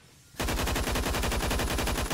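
Rapid automatic gunfire from the Phantom Forces shooter game bursts in after a quiet moment, a loud, steady stream of evenly spaced shots that runs without pause to the end.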